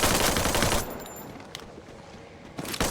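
Gunfire in the mobile shooter Free Fire, with a dense burst of rapid shots at the start, a few isolated cracks in a quieter stretch, then another burst at the end.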